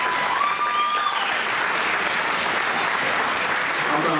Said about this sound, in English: Let's give ourselves an applause.